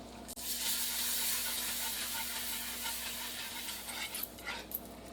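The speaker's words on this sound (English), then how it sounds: "And now I'm going to slowly stir in the vegetable broth." Vegetable broth slowly stirred into a simmering pan for a vegan Amish dish, a steady hissing rush with a faint low hum, a brief knock at the start and a few soft scrapes later.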